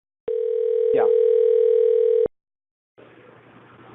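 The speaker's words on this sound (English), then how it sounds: "Now we got a phone ringing, Jeremy" A telephone tone sounds on a business conference call, a steady electronic tone held for about two seconds, then silence and a burst of faint noise.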